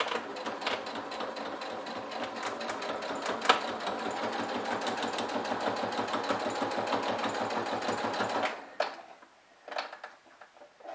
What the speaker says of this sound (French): Je me décale légèrement pour suivre la forme du tissu et je continue ma couture.